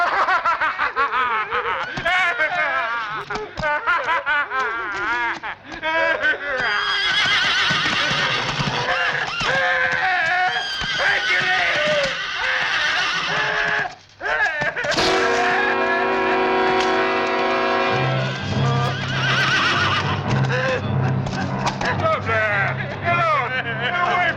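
Horses neigh and whinny repeatedly in a film scene, loud shrill calls that rise and fall, with voices talking over much of it and a steady tone joining toward the end.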